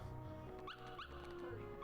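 Dalmatian puppies in the Kingdom Hearts video game give a few short barks and yips, with a whimper in between, heard over steady game music.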